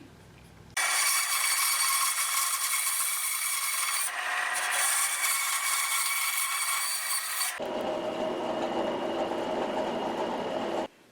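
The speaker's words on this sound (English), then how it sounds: "So I'm going to cut this notch out." Cutting a notch in hard maple on a lathe for an arrow shaft cutter, a loud continuous abrasive rasping and grinding that starts abruptly, shifts tone midway, then continues at lower pitch before stopping.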